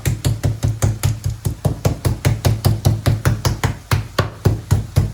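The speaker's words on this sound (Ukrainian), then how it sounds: "Тепер нам потрібно відбити його з дивним молоточком." Chicken fillet being flattened with a meat mallet: a rapid, steady run of about twenty dull thuds, close and fairly loud, with no voices over them.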